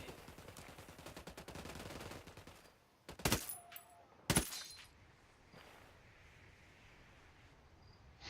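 A few sharp, loud gunshots ring out in Ghost Recon Wildlands, separated by about a second, amid quiet outdoor ambience with faint insect chirps.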